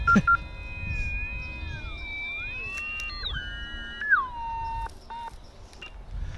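Electronic tones from a sewer pipe locator receiver, sliding and warbling in pitch, with several layered beeps rising and falling, steady and fairly clear over a faint low background.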